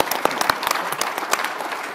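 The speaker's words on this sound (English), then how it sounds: "Can we get a round of applause for that?" A round of audience applause at a Pennsylvania legislative panel event, close and fairly loud, with sharp individual claps popping out of a short, uneven burst of crowd clapping.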